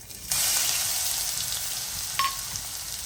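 Ginger, garlic and chili paste drops into two spoons of hot oil with cumin and asafoetida, and a loud sizzle bursts in at once. The sizzle holds steady, with a brief scrape of a utensil partway through.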